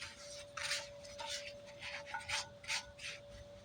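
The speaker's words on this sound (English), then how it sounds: "And now for the final wipe down before reinstalling it onto the freshly cleaned bracket" A hand wipes down a small engine part from a 25-year-old engine with an orange-scented cleaner, giving several short, close rubbing strokes in quick succession over a steady faint hum.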